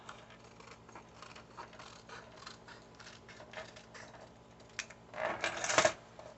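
Scissors cut paper for a junk journal, sliding and snipping up at an angle in a run of soft close crisp strokes, ending in a louder rustling crunch of paper.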